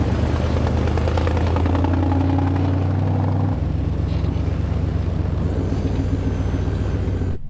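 A Ford Raptor in 4-low sits idling in deep snow after a cold start, its engine a steady close drone whose pitch drops partway through and then holds an even rumble.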